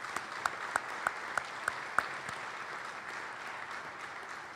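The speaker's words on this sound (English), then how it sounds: "Can we give them a round of applause and thank them for their leadership?" An audience applauds trustees at a leadership speaking event, a steady, moderately faint wash of clapping with a few sharper claps standing out early on, no voices over it.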